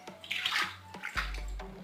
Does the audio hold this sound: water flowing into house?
yes